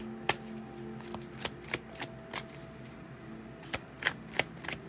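Tarot cards are shuffled by hand in a quiet room, giving a string of crisp, separate riffling snaps at uneven intervals. They are close and clear, and no one speaks.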